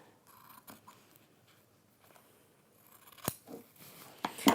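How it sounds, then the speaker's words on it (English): Scissors snip off thread close to the edge of a fabric and PU/cork journal cover, giving a couple of short, sharp cuts near the mic after a quiet stretch. "I'm just going to cut that off there."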